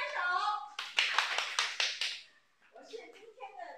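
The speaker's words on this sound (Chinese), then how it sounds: "大家好，请拍手。" A group claps in a quick burst of about eight sharp, evenly spaced claps during a folk-culture gathering in Kinmen, with talking voices before and after the applause.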